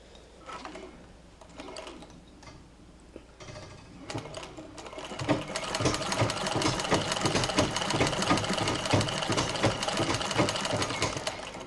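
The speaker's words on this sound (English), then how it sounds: "But that's the noise you hear from the treadle" A Singer treadle sewing machine runs with a steady, rapid mechanical clatter from its pitman rod, quiet at first and then growing louder and denser for the rest of the clip.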